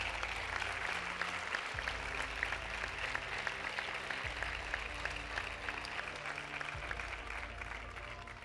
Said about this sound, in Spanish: Y un fortísimo aplauso para los colegios de educación infantil y primaria de Isla Cristina.